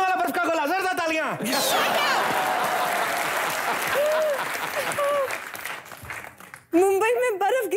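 A studio audience at a comedy show bursts into loud, sustained applause that rolls for several seconds, with a voice speaking at the start and end and chatter mixed through the clapping.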